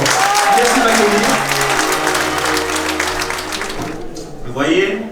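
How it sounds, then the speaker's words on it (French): An audience applauds loudly at a French political list presentation, dense sustained clapping filling the room with a voice speaking over it, then the clapping thins out near the end. "qu'on va applaudir très très fort"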